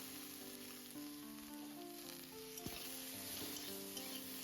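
Panch phoron spices crackling in a little hot oil in a wok, a steady close sizzle with a few sharp pops, alone without talk.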